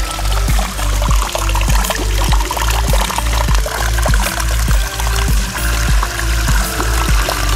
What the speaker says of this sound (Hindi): फाइनली यहाँ पे पानी चल चुका है, ये रहा अभी चल रहा है